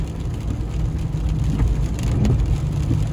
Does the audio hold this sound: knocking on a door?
no